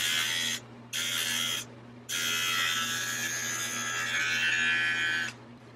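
A Philips Norelco 3100 series beard trimmer running, a close, steady electric buzz that stops briefly twice early on, then runs continuously before switching off near the end, with no talk.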